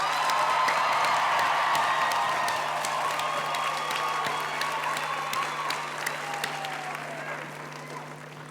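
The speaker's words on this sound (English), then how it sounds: "Can we give our graduates another round of applause," Sustained applause from a graduation ceremony audience honoring the graduates, with scattered cheers and whoops; a steady, dense wash of clapping that slowly eases in level over its length.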